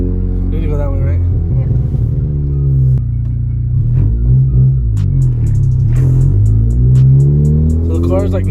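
A car makes an abnormal engine noise while driving, a loud, deep throbbing rumble and droning hum with wavering pitch, heard from inside the car with people talking over it.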